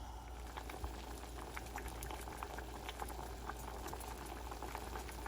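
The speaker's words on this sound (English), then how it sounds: "We'll continue to cook this until the noodles are done." Tomato flavored Chinese instant noodles simmer in a pot of water, giving a quiet, steady bubbling with soft irregular pops and no voices.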